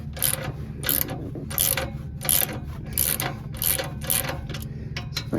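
A ratchet clicks in a quick rhythmic series of back-and-forth strokes, close and crisp, loosening an exhaust clamp on a 2022 Chevy 2500 Duramax pickup, with no talk over it.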